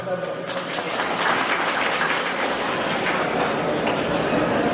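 Sustained applause from an audience at a family gathering in Karukappadam, a dense steady clapping that fills the whole stretch at moderate loudness without pause.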